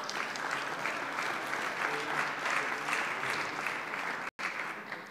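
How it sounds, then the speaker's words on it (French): Sustained applause from a seated audience in a French parliamentary chamber fills the room evenly for several seconds, broken by a brief cut near the end. "Je pense que vous pouvez effectivement les applaudir."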